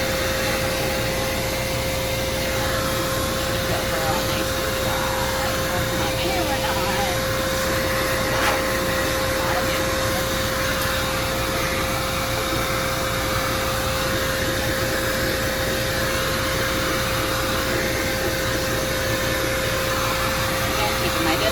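A hair dryer blowing two dogs dry after their bath gives a loud, steady whooshing roar with a constant hum, running without a break from start to finish.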